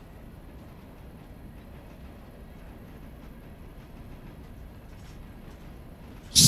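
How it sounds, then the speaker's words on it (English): A train in the rail simulation game Railroader cruises along the tracks, giving a steady, low rumbling roll that stays even throughout, with a sudden louder bump right at the end. "It's kind of cruising in my train here."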